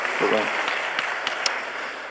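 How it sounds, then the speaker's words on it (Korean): A church congregation applauds during a Sunday worship service, a moderate, diffuse patter of clapping with a voice briefly heard over it. "다시 한번 우리 박수 한번 보내주시기 바랍니다"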